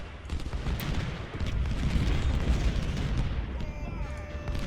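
Dense musket volleys and artillery rumble from Ultimate General: Civil War roll on continuously at Malvern Hill, a loud unbroken crackle of fire.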